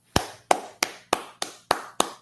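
Rhythmic hand clapping for a guest from a small group at a business talk: about seven sharp, evenly spaced claps roughly a third of a second apart, close and fairly loud, with no voices.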